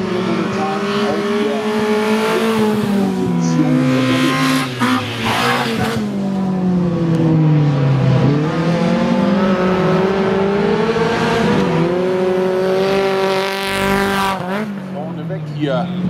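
Blue VW Golf race car driving hard around a circuit at a NAX-Cup club race in Mölln, with loud sustained engine drone rising and falling through gear changes, brief tire squeal, and a commentator talking over it.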